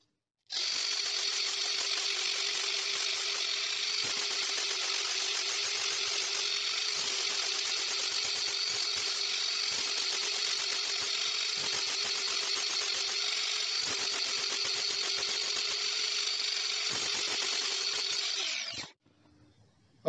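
Arc welding a seam on metal with a chamfered joint produces a steady, close buzzing crackle that runs unbroken for nearly twenty seconds before cutting off abruptly.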